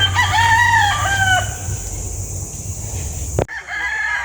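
Young roosters (stags) crow loudly and close on a farm, one long rising-and-falling cock-a-doodle-doo filling the first seconds before fading, followed by a sharp knock and quieter farmyard noise.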